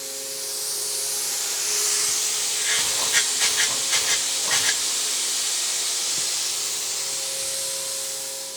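A long, steady pressurized hiss from a spray gun, with a few short sputtering bursts in the middle, close and constant throughout.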